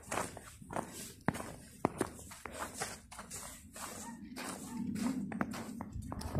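Footsteps crunch over snow and ice in a snowy town, a steady walking rhythm of close, crisp steps with occasional sharper impacts, while snow keeps falling and faint background noise rises toward the end.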